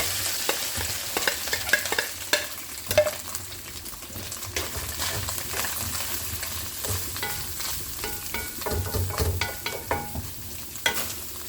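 Shredded chicken frying in a little hot oil in a kadhai, a dense crackling sizzle with frequent spatula scrapes and clacks, close and lively, with no one talking.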